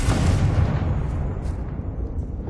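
A Confringo fire-blast spell exploding in the video game Hogwarts Legacy: a heavy, booming blast already roaring at the start, its rumble gradually dying away.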